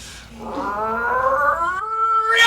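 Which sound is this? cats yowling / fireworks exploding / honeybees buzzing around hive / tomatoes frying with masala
cats yowling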